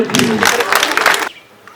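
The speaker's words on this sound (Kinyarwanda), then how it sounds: "Amashyi n'impundu mwuka byaramwe." Loud burst of clapping and high trilling cheers from a crowd at a Rwandan wedding ceremony, dense and sustained for over a second before cutting off abruptly, followed by quiet room tone.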